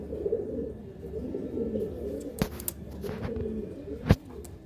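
Pigeons offered for sale coo softly and steadily nearby, with a couple of sharp clicks or knocks standing out against the low murmuring.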